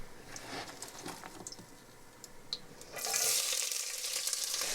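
Onions tipped into hot oil in a pan, stirring and light crackle at first, then a loud, steady sizzle rising and holding close up, with no talking.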